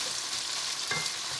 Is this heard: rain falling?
no